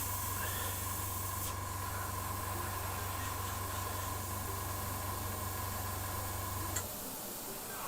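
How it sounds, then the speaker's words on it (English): An airbrush sprays thin paint onto a model, a steady close hiss with a low hum underneath that cuts off near the end, leaving only faint background noise. "So that is my thin airbrush as well."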